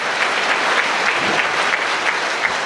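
A church audience breaks into steady, sustained applause with dense overlapping claps that stay even and loud throughout.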